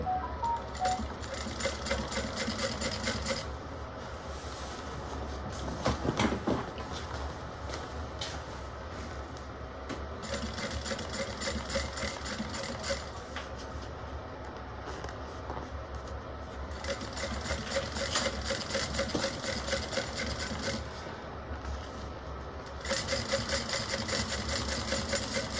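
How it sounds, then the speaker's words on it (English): Sewing machine top stitching along both sides of a seam on a fabric bag, running in long steady bursts with a few brief pauses, close and fairly loud. "we're just top stitching on both sides of the seam"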